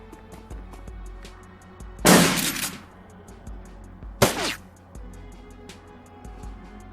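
Two loud, sharp gunshot bursts ring out in the turn-based game Shadowrun Dragonfall, about two seconds apart. They stand out against a quiet, low background of ambient game sound.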